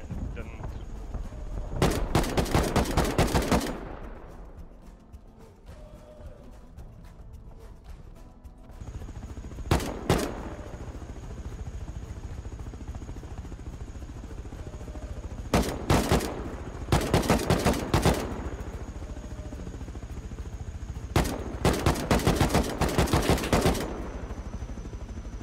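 Automatic turret guns on an attack helicopter fire in bursts in the video game Rust, with several rapid clattering volleys spaced across a steady rotor-like drone and faint talk underneath.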